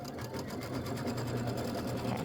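An embroidery sewing machine stitches a quilted Christmas wall hanging in a steady, close, continuous mechanical whir with rapid needle rhythm, with no voices heard.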